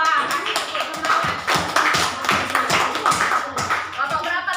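Classroom of students clapping in encouragement for a presenting group during a school lesson, loud, steady, rhythmic claps filling the room throughout, with some voices mixed in.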